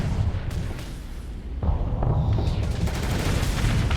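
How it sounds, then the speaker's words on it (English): Small missiles launched at a target in a space combat game, a series of booming launches and impacts over a dense rumbling background, loud and continuous. "I'll target this guy for the little missiles"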